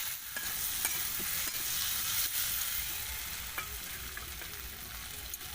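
Garlic paste fries in hot oil for a homestyle Bengali shol (snakehead) fish curry. Sizzling stays steady and close, broken by occasional sharp utensil scrapes, and no one talks.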